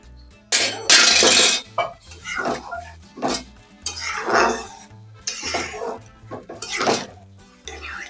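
A utensil clanks and scrapes against a cooking pot as cauliflower is stirred into sabu khichuri, in close, irregular bursts of metallic clinks.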